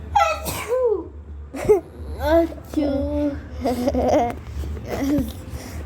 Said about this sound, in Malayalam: എന്തിനാ തുമ്മല്?